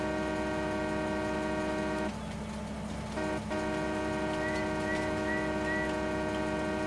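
A train running in the Farming Simulator 19 video game, moving at speed up steep grades: a steady droning engine hum layered with sustained whistle-like tones, a short hissing burst midway, and a few faint higher chirps later.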